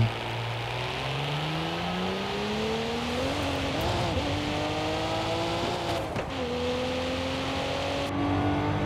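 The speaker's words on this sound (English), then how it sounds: "I do like the sound of this car" A 2022 Cadillac CT4-V Blackwing engine in the video game Forza Horizon 5 revs continuously, its pitch climbing steadily through the gears, loud and close, with no talking.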